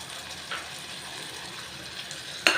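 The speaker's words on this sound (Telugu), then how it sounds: "వేసేసుకుని ఒక 2 నిమిషాలు మనం వేయించుకుందామండి. కొంచెం ఆయిల్ పైకి తేలేంత వరకు మనం దీన్ని కొంచెం వేగనివ్వాలి." Steady loud sizzling of tomato paste frying in oil with vegetables and ginger-garlic paste in a pan, continuous hiss with a sharper clink or stir near the end.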